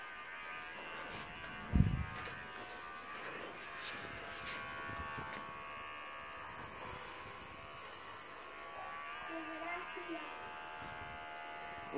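An electric clipper buzzes steadily and quietly while shaving a person's head down, with one brief bump near the start and some talk faintly in the background.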